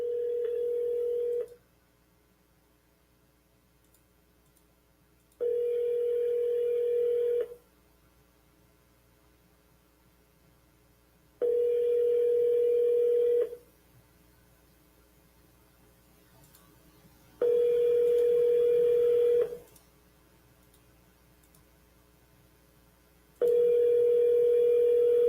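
A telephone ringback tone sounds before the call goes to voicemail, five long steady rings of about two seconds each, spaced by roughly four seconds of near silence, clear and close with no speech.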